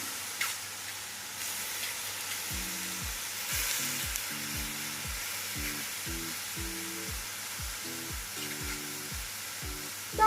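Oyster mushrooms fry in a nonstick pan with a soft, steady sizzle and hiss, kept fairly quiet beneath a background melody.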